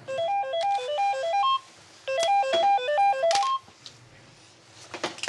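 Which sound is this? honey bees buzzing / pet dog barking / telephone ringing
telephone ringing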